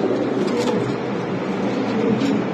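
Pigeons at a Bangladeshi fancy pigeon seller's, among breeds such as Lahori, Sirazi and Andalusian, coo softly and continuously under a steady, dense background hum, close and moderately loud throughout.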